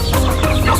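Backyard chickens cluck in a brief, close burst with no voices.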